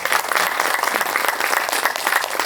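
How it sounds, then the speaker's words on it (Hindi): Steady applause from a festival audience in Mumbai, many hands clapping continuously at a moderate distance with no pauses. "मुंबई के नाम एक बार फिर जोरदार तालियां होनी चाहिए"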